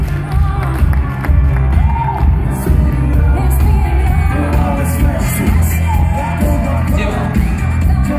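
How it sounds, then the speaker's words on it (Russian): Wedding crowd cheering, shouting and whooping in a loud, continuous wash of voices, with a few sharp bangs, likely mixed with applause. "Аплодисменты, дорогие друзья."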